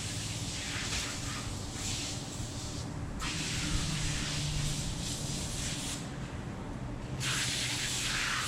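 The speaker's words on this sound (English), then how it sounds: "Wash it down with some brake parts cleaner." Brake parts cleaner sprayed onto a 1977 Pontiac Trans Am oil pan, a continuous close hissing spray with a few brief breaks and restarts.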